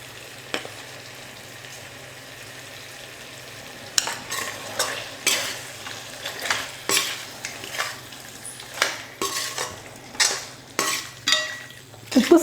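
Chicken fries with salt in a pan: a faint sizzle at first, then a run of rhythmic scraping stir strokes against the metal, each close and distinct.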